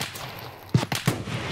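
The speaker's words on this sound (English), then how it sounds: "Yeah, he's shooting at me" Gunfire in the video game Escape from Tarkov: two sharp, loud shots about a third of a second apart, each with a short echoing tail, over a low steady background, no talk.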